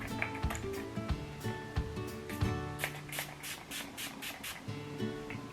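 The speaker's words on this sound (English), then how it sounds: "I'm going to use the makeup setting spray and just spritz that" A run of quick makeup setting spray bursts in the second half, several short hissing spritzes in a row, close and fairly soft, with light handling clicks before them.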